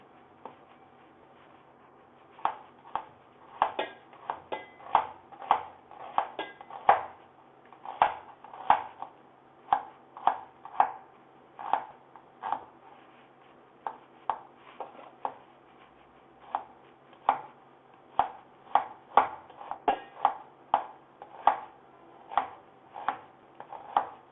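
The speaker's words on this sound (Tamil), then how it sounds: "வெங்காயத்தை சின்ன சின்ன ஸ்லைஸாக கட் பண்ணணும்." An onion is sliced with a knife, producing quiet, crisp, regularly spaced chopping taps on a board that arrive in short runs with brief pauses between them.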